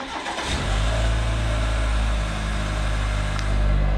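A 2.7-liter TurboMax truck engine, its rattle fixed by a new transmission heat shield, cranks and catches, then settles into a steady, close, low idle with a slight rise in revs, heard alone with no talk.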